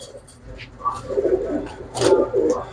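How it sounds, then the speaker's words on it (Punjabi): A female pigeon coos nearby in a few soft, rolling bursts with short pauses between them, heard alone without talk. "ਦੇਖੋ ਬਈ ਜੀ ਕਿੰਨੀ ਸ਼ਾਨਦਾਰ ਕਬੂਤਰੀ ਹੈ"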